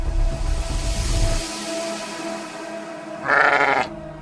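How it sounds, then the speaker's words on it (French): A single sheep bleats loudly and close by for about half a second near the end, after a stretch of low rumbling background noise. "Ça nous rappelle Dolly, cette brebis rendue célèbre pour avoir été le premier mammifère cloné de l'histoire"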